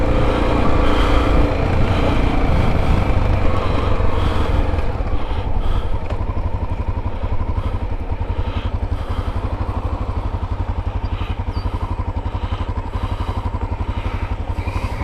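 A Honda XR650L motorcycle rides along a road near North Plains, Oregon, its single-cylinder engine thrumming loud and close with a steady, rapid pulse and occasional clattering bumps throughout.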